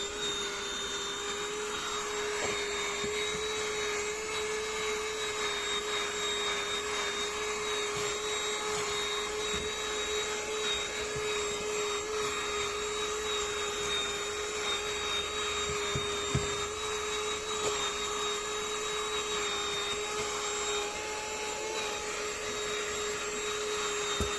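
A cheap cordless car vacuum cleaner bought from AliExpress runs steadily for the whole stretch, a constant close whine with a high motor tone and airy hiss, no talk over it.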